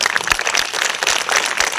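An audience applauds after a training session, dense clapping from many hands, steady and fairly loud through the whole short stretch.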